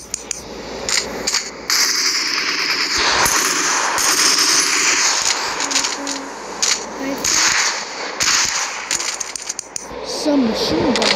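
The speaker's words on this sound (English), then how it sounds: "Machine gun." Rapid automatic machine gun fire in a video game, dense and continuous bursts close up with brief gaps, while a person talks over the shooting throughout.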